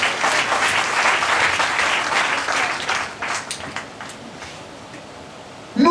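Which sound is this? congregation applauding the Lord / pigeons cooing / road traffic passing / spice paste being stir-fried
congregation applauding the Lord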